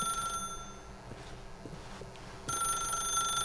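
An old telephone rings in The Stanley Parable, a shrill metallic bell that cuts out and then starts again, loud and close, with no talking.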